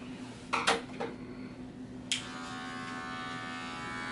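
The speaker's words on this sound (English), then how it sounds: "I might just have to go back to the clipper over comb, but I'm gonna use the smaller comb." Electric hair clippers cut a taper haircut clipper-over-comb, starting with a few short bursts and clicks, then settling into a continuous close, steady buzz over a low hum.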